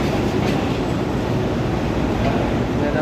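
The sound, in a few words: Benapole Express train arriving at platform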